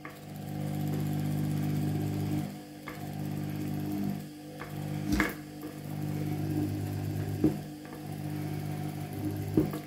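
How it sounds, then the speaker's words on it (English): A washing machine motor running on a speed controller, a steady close mechanical hum with harmonic drone that dips and swells, broken by a few sharp clicks and knocks. "Let's try to stop the motor."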